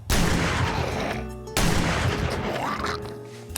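A double barrel shotgun fires in a zombie survival video game, two booming blasts with long noisy tails filling the clip, loud and close.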